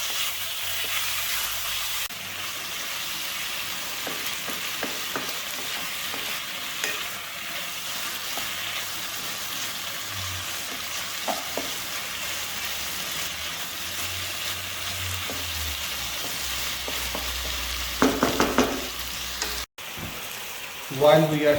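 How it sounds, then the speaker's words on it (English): Marinated chicken pieces sizzle and spit in a hot pan for chow mein, with a steady close hiss and occasional scraping stirs, plus a brief clatter near the end. "While we are stir frying our chicken"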